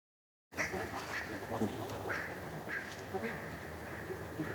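Ducks quack repeatedly in short, nasal calls, some overlapping, over a steady outdoor background of faint chatter and rustle.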